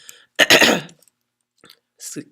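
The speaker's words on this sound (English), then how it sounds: "Excuse me as I cough here and clear my throat." A single cough followed by a short throat clearing, close by, with a few faint mouth sounds and quiet gaps around them.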